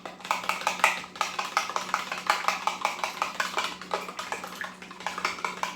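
An egg whisked into milk in a bowl for Black Forest chocolate scones, a steady run of quick clinking taps from a utensil against the bowl, close and fairly loud, with no talking.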